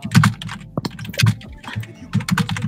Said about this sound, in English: Who was typing?